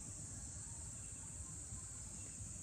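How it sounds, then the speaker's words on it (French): Steady, dense cricket chirping fills the surroundings, a constant high buzzing trill with no pauses and no voices. "en écoutant les grillons qui sont à droite, ceux qui sont à gauche, ceux qui sont derrière"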